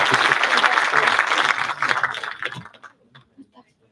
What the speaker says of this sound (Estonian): aga teeme suure aplausi Triinule.